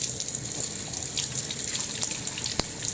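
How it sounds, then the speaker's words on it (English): Hot water runs steadily from a tap, a constant hissing stream with a few faint clinks and drips, no talking. "I'm going to put on some hot water."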